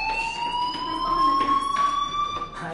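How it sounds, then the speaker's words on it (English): A school fire alarm in the video game Life is Strange rings as a steady, sharp electronic tone with pulsing bursts, fairly loud and continuous, with no talking. "do you hear that fire alarm?"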